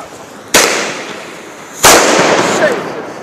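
Two sharp, loud firecracker blasts go off about a second apart at a New Year's fireworks celebration in Rotterdam, each a sudden crack followed by a crackling, fizzing tail with faint background noise between them.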